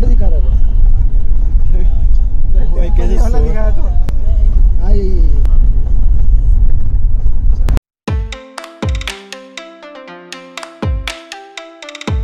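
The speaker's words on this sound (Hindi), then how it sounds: "आज हम जा रहे हैं कार में" Low road rumble of a car interior on a drive to a temple trek, with voices and babble over it for about eight seconds, then cut off by a loud run of bright electronic ringtone-like tones.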